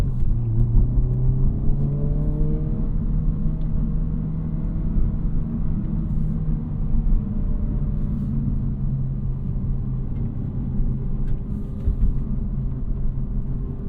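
2024 Honda Civic Type R in +R mode on twisty roads: a steady loud engine drone rises briefly in pitch as it revs, then settles into a continuous rumbling cruise with road noise underneath.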